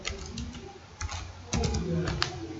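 Names are typed into an Excel sheet on a computer keyboard, with scattered quick key clicks and short bursts of keystrokes, close and clear, and some faint talk in the background.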